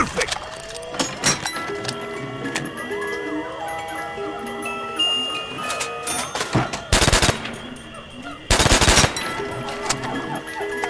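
Two heavy, close shotgun blasts go off in a video game on the Shi No Numa zombies map. They cut through a layer of tonal game music and smaller clicking effects, about a second and a half apart.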